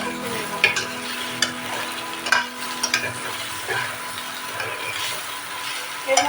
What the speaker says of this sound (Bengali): এটাকে আমি ভালো করে কষিয়ে নেব।